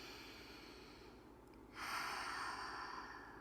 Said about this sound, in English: Deep, deep breaths